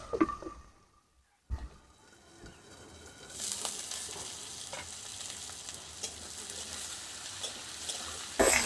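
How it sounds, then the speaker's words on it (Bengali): Potatoes and onions frying in a pan for a fish curry: a quiet start, then a steady broadband sizzle rising partway through and holding with occasional stirring scrapes, close and continuous with no talk. "আলু পেঁয়াজটাকে আমি হালকা করে ভেজে নেবো"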